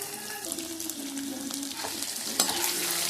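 Onion and two cloves of garlic fry in oil in a pan: a steady close sizzle with occasional stirring scrapes, moderately loud, and no voices.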